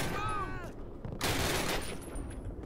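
Gunfire in the Call of Duty video game: loud bursts of shots with echoing tails, set against a ringing pitched tone early on.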